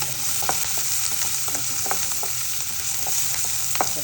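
Garlic for a prawn pickle fries in a pan of hot oil, a close, steady sizzle with small pops and spatters scattered throughout.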